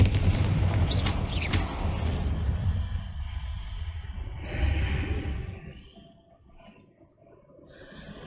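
Confringo blasting spell in Hogwarts Legacy, a heavy booming explosion with rumbling low end that rolls on for several seconds, a second burst midway, then fades toward quiet.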